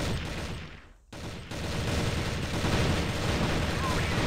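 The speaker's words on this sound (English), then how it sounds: "flashes and nades coming across here all over mid" Bursts of gunfire mixed with grenade blasts and flashbang pops from a competitive shooter video game match, a dense loud barrage that cuts out briefly near the start before resuming under continuous noise.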